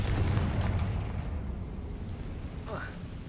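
A Confringo fire spell blasts in Hogwarts Legacy, a deep booming rumble that fades away over a few seconds, with a brief voice near the end.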